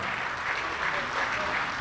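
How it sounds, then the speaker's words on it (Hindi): Steady applause from an audience at a comedy or poetry show, a continuous wash of clapping with no pauses and no distinct voices over it. "अच्छी बात पर अच्छी तालियां चाहूँगा।"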